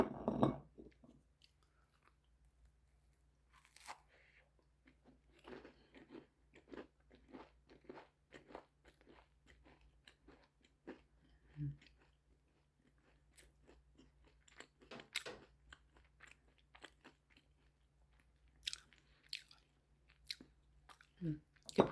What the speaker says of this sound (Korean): 그리고 제가 만든 쿠키를 먹어보겠습니다.